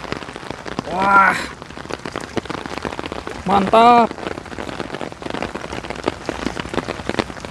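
Heavy rain pours steadily during flooding in Korea, a dense close hiss of drops striking surfaces throughout, with two brief excited voices speaking over it.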